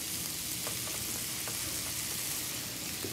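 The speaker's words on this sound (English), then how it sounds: "then finally we add our scallops" Scallops sizzle and fry in butter in a pan for a Louisiana pot pie, a steady close hiss with faint crackles running throughout, no talking.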